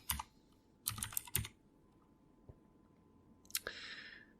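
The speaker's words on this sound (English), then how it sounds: "we'll type in the word paintball" Fingers tap out short bursts of keystrokes on a computer keyboard, a few quick clusters separated by pauses, close and fairly quiet in a still room.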